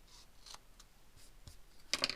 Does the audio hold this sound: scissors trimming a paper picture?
yes